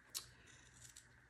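Scissors snipping small triangles into fabric seam allowance while sewing a sweet pea bonnet: one crisp snip near the start and a softer pair of cuts later, quiet and close.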